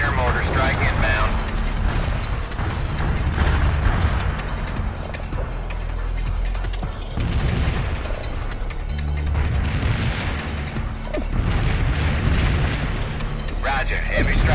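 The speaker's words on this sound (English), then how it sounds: "Mortar strike inbound." Mortar strike explosions from the real-time strategy game World in Conflict rumble as a continuous barrage of heavy booms and rattling debris, loud and sustained, with radio chatter layered over the blasts.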